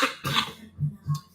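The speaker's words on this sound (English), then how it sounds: "Excuse my cough." Several short throaty coughs, close and fairly loud, come one after another at an irregular pace with no speech around them.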